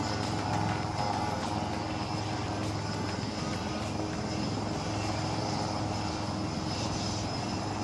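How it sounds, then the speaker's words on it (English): Indian Air Force Surya Kiran aerobatic team jets taking off at Aero India 2023 in Bengaluru, a loud, steady, continuous engine roar filling the whole stretch with no talk. "We are standby for the Surya Kiran aerobatic team takeoff."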